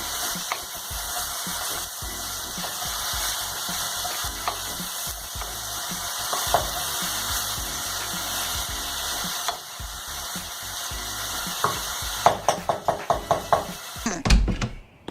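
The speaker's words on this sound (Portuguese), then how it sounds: "Vamos mexer. deixar refogar bem essa mistura." A pan of sautéing vegetables, including bell pepper and olives, gives a steady close sizzle under repeated scraping and stirring. A run of sharp utensil knocks comes near the end.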